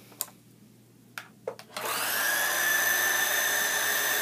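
A Pfaff Classic Style sewing machine starts after a few clicks and then runs steadily, a close, even mechanical whir with a high whine that holds level to the end.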